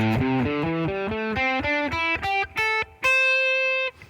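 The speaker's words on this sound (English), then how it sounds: "I'm going to add a little overdrive with my pedal" An electric guitar runs through an overdrive pedal, playing a phrase of single notes that climb steadily before settling on one sustained note. It is close, clear, saturated and alone, with no talking.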